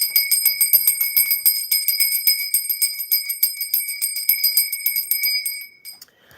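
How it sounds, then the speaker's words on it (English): A small bell rings rapidly and repeatedly during a tarot reading, each bright metallic strike overlapping the last for several seconds before the ringing stops and decays away, with no talking. "I feel the need to ring a bell in between questions"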